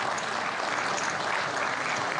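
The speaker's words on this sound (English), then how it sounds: "You know, round of applause." A crowd at a poker tournament gives a steady round of applause, a dense wash of clapping that holds even throughout.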